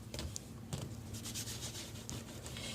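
A baby wipe rubs across an ultra satin sash in soft, close, continuous scrubbing strokes with a few sharper swipes, quiet and without talk.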